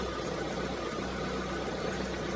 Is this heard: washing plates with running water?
no